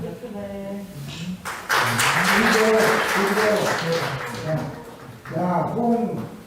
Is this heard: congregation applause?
yes